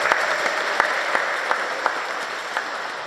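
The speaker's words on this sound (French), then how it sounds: "Si nous pouvons acclamer très fort pour cette chorale." Congregation at a church baptism and first communion ceremony applauding the choir, a close, steady burst of many hands clapping with a few sharper claps standing out.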